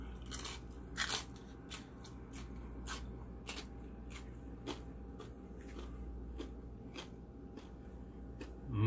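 Crunchy fried pork belly is bitten and chewed close up, with a steady run of sharp crackling crunches and snaps over a quiet background, with no talking.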